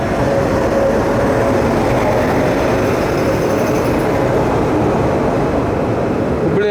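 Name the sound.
train passing at Kushtagi railway station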